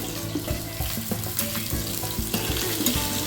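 Chopped onion fries in oil on a hot tawa griddle pan on a gas stove, the first step of a mutton handi, with a close, steady sizzle broken by soft knocks of stirring.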